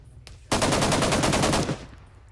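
A rapid burst of automatic gunfire in the military shooter ArmA 3. The shots are loud, close and evenly spaced, lasting about a second before cutting off into quiet.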